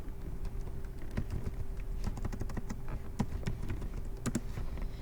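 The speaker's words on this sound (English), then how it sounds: "So in Google, I can just type in Headsprout." Keys clatter on a computer keyboard as a word is typed into a Google search box, an irregular run of light close taps over a steady low hum.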